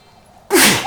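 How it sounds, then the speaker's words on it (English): A single sharp, loud sneeze bursts out halfway through after near silence, close and forceful, then trails off. "Gesundheit."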